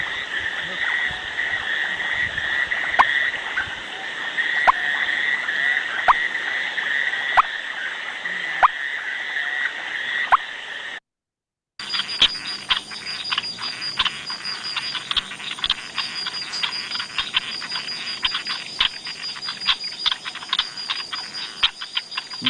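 Golden back frog calls like dripping water droplets, a steady stream of short liquid plinks over a shrill insect-like chorus, briefly cut out midway.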